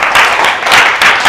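A class applauds a student group after its presentation, with loud, close clapping that rises and dips in a few uneven surges across the room.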